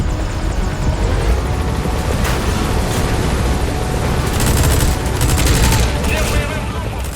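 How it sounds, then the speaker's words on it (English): Helicopter-mounted minigun fire in the Metal Gear Solid V: The Phantom Pain video game, a loud continuous roar of rotor noise and rapid gunfire with bursts growing denser and harsher toward the end. "we'll use the helicopter's minigun to take out enemies"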